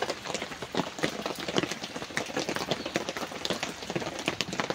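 Steady rain patters and splashes on surfaces nearby, a dense crackling hiss of drops that goes on without a break.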